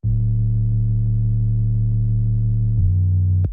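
Sub bass synth from Ableton Operator built from sine waves, a loud, pure low sustained tone holding one pitch then stepping to another note before cutting off abruptly.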